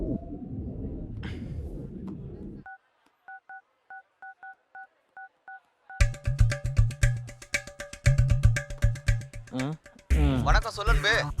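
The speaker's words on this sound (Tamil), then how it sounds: "அன்பே பாலாஜி ஏஜென்சி ஃபோன் போட்டு கொடுறா" A telephone handset beeps out a rapid series of dialing tones, then a busy stretch of clicks and warbling line signals follows, in a Tamil comedy film.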